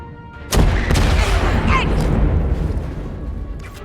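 Rocket explosion in the Star Wars Zero Company video game, a sudden loud blast followed by a second thump and a long rumbling, crackling decay at close range.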